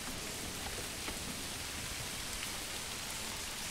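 Heavy, steady typhoon rain in Manor Lords pours down in a constant dense hiss with no pauses, close and even throughout, with no voices.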